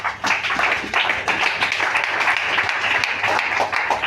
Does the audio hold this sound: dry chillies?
no